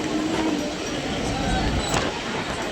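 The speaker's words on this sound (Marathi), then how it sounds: "मी ट्रेनमध्ये बसलेली आणि फास्ट ट्रेन मला भेटलेली आहे" A fast train rushes along the tracks, heard from inside a carriage near Kalyan, with a loud, steady rumble and rattle that never lets up, with faint voices underneath.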